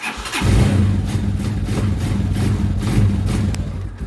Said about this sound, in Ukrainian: Так запускається новий мотоцикл. А так запускається мотоцикл, який реально вже своє від'їздив.